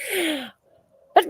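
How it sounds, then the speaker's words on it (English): A person sneezes once at the end, a sharp loud burst after a brief windup of a drawn-out inhale and near silence, close to the microphone. "I'm going to sneeze again"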